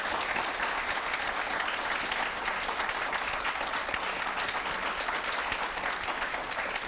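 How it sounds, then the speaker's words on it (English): Steady round of audience applause for a panel at a public forum, many hands clapping evenly and continuously at moderate level, heard from within the hall with no voices standing out. "Ladies and gentlemen, let's give our panel a round of applause, please."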